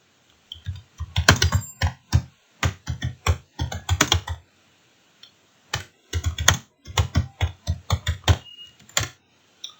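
Computer keyboard typed on at a desktop or laptop, close crisp key clicks in quick irregular bursts separated by short pauses, with no voice.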